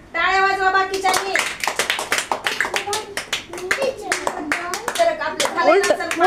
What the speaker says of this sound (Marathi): टाळ्या वाजवा बाकीच्यांनी.